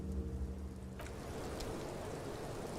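Soft, steady rain falls in the video game Disco Elysium, a faint and even hiss with no voices.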